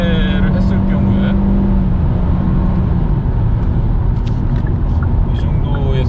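A Hyundai Avante's engine and exhaust at full throttle, a loud, continuous drone with rising tones heard from inside the car, with a voice talking over it.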